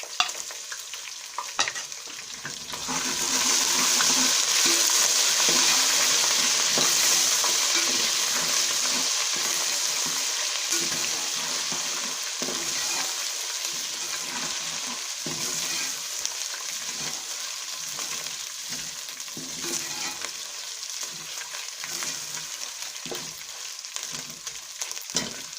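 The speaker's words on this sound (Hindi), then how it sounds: "अब इसमें अदरक लहसुन का पेस्ट डाल देंगे।" Ginger-garlic paste goes into potatoes frying in a pan for achari aloo, and a bright hissing sizzle swells after a few seconds before slowly easing, with faint stirring scrapes underneath.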